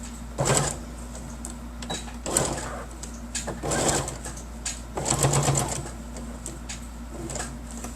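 A sewing machine stitches around the edge of a fabric bookmark, running in three or four short bursts with brief pauses between, a close, steady mechanical whir over a low background hum.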